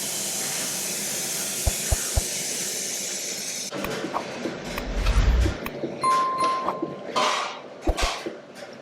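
Masala with green peas frying in a pan for vegetable rice bath, a steady hiss and sizzle with brief clicks and a louder stir-like burst midway.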